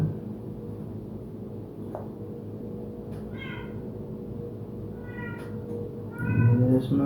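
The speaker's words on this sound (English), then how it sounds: "And there's my baby kitty." A cat meows a few times, faint and fairly distant, in a workshop where a giant-scale P-47 Razorback model plane is being built, over steady low background hum; a louder meow near the end.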